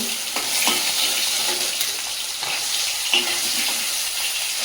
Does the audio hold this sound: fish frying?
yes